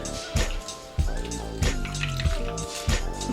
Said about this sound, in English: Just gonna really press it and get out a lot of that extra liquid